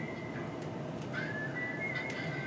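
Ringing from an old Android phone alarm outdoors, a thin whistling tone that wavers and slides upward, heard faintly over a steady hiss of background noise.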